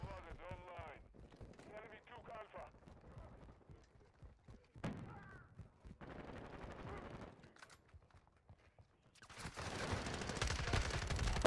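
Rapid bursts of MP5 submachine gun fire in a video game, several short strings of shots punctuated by louder cracks and a dense final burst, with someone talking between and over them.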